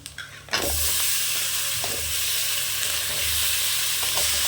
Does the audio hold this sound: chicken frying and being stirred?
yes